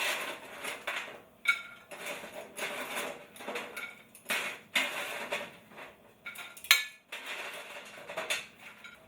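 Fries being placed onto a plate while garlic cooks on a date-night meal, heard as a run of soft scrapes, light clinks and handling knocks against dishware, close and moderately quiet, with no talking.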